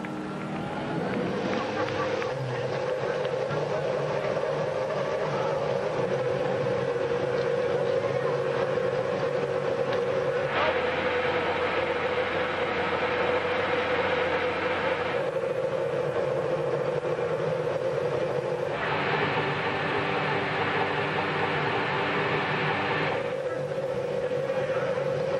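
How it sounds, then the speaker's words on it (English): Twenty-six IndyCar race car engines idle at the 2010 Honda Indy Toronto street race, making a steady, loud mechanical drone with broader roaring surges that swell and fade over the continuous rumble. "So the engines have come to life on the 26 cars."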